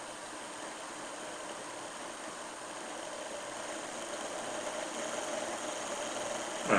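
A small DCC-converted model locomotive motor runs slowly, making a steady, close, high whirring hum that stays even throughout with a slight rise and a brief click at the end, and nobody talks.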